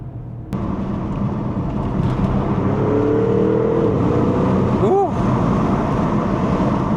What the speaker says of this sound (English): The way that those twin turbos build up boost, this is so responsive, and it just acts immediately.